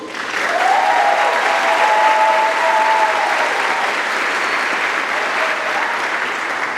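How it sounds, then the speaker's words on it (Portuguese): Workshop audience of young apprentices breaks into sustained, loud applause that holds evenly for several seconds, with a faint tonal ring briefly riding over the clapping early on. "Vamos aplaudir nosso senhor?"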